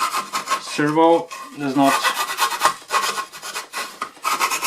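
Steady back-and-forth rasping of hand sanding on wood, rhythmic strokes, close by, with a brief voice cutting in partway through.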